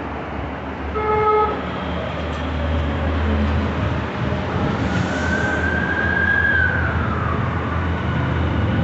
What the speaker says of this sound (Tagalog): andito na yung train